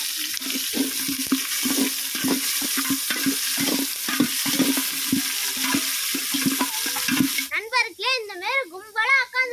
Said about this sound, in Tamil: நல்ல எண்ணெய் சுத்தமான எண்ணெய் கடுகு போட்டுக்கலாம்